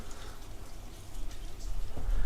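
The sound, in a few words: rain falling in the morning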